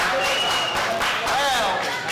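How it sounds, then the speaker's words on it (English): Wrestling event crowd applauding, a brief burst of clapping and cheers from the audience, loud and close, mixed with crowd voices. "Another round of applause."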